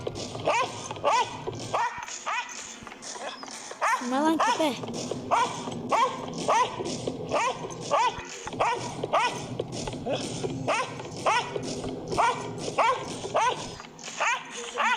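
A dog barks over and over in quick, yappy bursts, close and persistent, with people talking and exclaiming underneath.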